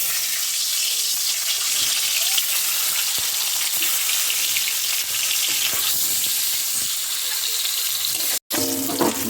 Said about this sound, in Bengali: এবার এই একই তেলের মধ্যে ডিমগুলো হালকা করে ভেজে নেব